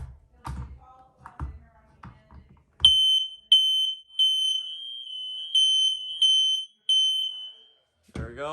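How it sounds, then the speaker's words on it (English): A hardwired home smoke alarm being tested gives a shrill, piercing beep in repeated pulses of roughly equal length. Some tapping and handling noise come before it, and a brief voice is heard at the end. "That smoke alarm works"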